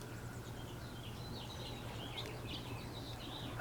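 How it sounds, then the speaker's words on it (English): Birds chirp and sing outdoors, faint, scattered tweets over a low, steady background hum. "I'm hearing the birds."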